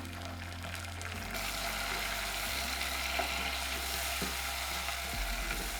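Tomatoes dropped into frying garlic and onions, a broad steady sizzle that jumps louder as they land in the pan, with faint scraping under it.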